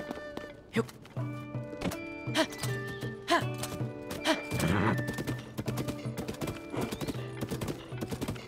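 A horse in the video game The Legend of Zelda: Tears of the Kingdom, with steady clip-clopping hooves, occasional neighs and thudding knocks, all loud and close over a continuous game background.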